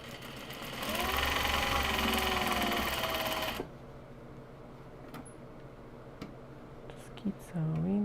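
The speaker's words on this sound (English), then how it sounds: "Just keep sewing, just keep sewing, just keep sewing." A sewing machine runs steadily for a few seconds while stitching small box bags, then stops, leaving quieter room sounds with a few soft clicks and a brief voice at the end.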